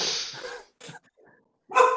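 A dog barks somewhere in a room during a painting hobby chat, giving a few short, separated yelps with quiet gaps between them, fairly close and loud.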